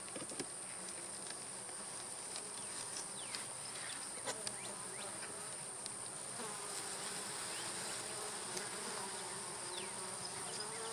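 Honey bees buzz around an open beehive during a beekeeping check for beetles, making a steady, low, continuous hum with scattered nearer buzzes passing by, and no one talks.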